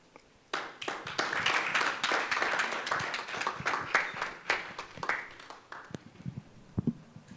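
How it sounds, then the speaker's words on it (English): A room of attendees at a democracy and legal activism event bursts into applause that starts suddenly, stays dense and lively for several seconds, then thins into scattered last claps. "Another round of applause."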